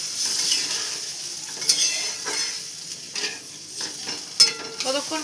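Chhana koftas cooking in curry gravy in a pan, with soft bubbling and sizzling plus occasional stirring scrapes, close and fairly quiet.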